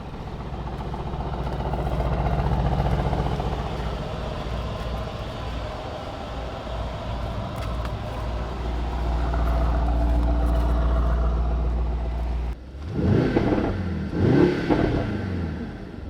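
Several V8 car engines run together in a steady, heavy rumble at a car meet, swelling and easing, then sharper, rougher revving bursts near the end.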